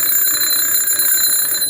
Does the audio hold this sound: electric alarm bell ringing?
yes